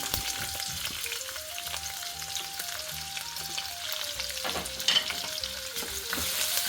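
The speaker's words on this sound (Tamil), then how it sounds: "எண்ணெய் சூடாக எடுத்து ஹோல் ஸ்பைசஸ், பே லீஃப், பட்டை, 2 கிராம்பு எல்லாம் போட்டுக்கலாம்." Whole spices, bay leaf, cinnamon and cloves crackle and sizzle in hot oil in a pan, a dense close frying hiss with occasional stirring clinks and a faint melody in the background, no talking.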